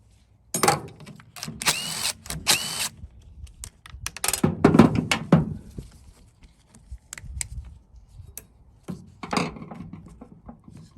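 A carburetor is taken off a Poulan/Craftsman chainsaw. Short bursts of a power driver mix with metallic clatter and handling noises, close and moderately loud, in uneven spurts with gaps between.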